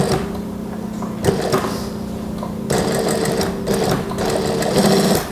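Sewing machine stitching a trouser crotch seam on women's pants, running steadily with a continuous motor whir and rapid needle clatter that pauses briefly and restarts, close and fairly loud with no talking.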